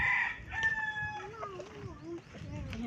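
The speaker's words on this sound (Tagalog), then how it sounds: "Dami dito manok." A rooster crows loudly nearby while other chickens cluck and squawk around it, with faint background voices.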